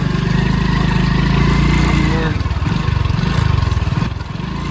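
A vehicle engine roars steadily and is revved, then settles into a throbbing pulse, loud and close, on a muddy rural road in Chamorshi taluka, Gadchiroli, Maharashtra.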